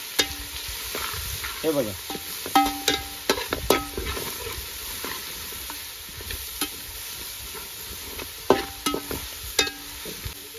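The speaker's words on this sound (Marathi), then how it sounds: "आला लसूणची आपण आता पेस्ट टाकलेले चांगली पडताळून घ्यायची आहे" Ginger-garlic paste and green chillies sizzle in a pan for a rooster curry, with frequent scraping and clinking as a spoon stirs them, close by and steady, and a brief voice speaks.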